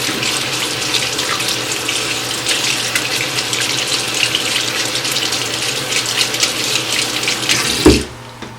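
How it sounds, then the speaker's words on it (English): Running tap water splashes steadily into a sink while a makeup brush is rinsed under it, a close continuous gush that stops abruptly near the end. "So I also rinse while I'm doing this as well."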